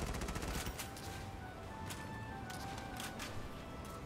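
Enemy gunfire in the tactical war game Valkyria Chronicles 4, a run of rapid cracking shots and bursts at moderate distance over a steady battle din, with no voices.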